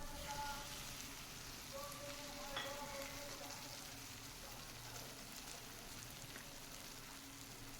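Pieces of fish go into hot oil in a pan for a curry, setting off a steady crackling sizzle with faint clinks, continuing quietly without a break.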